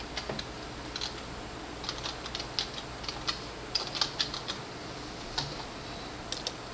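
Quick, irregular keystrokes on a computer keyboard as a Windows password is entered, light clicky taps in uneven bursts against a quiet room hum.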